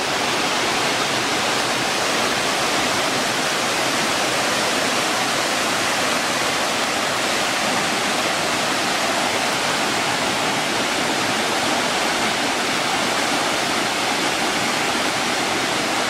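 Waterfall at Sullivan Falls, Pennsylvania, a loud, unbroken rushing roar of falling water heard close up and steady for the whole stretch, with no voices over it.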